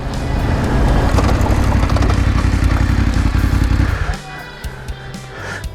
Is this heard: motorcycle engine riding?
yes